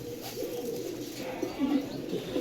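Pigeons coo in low, repeated rolling calls at a moderate distance. The calls are fairly quiet and overlap over a soft background.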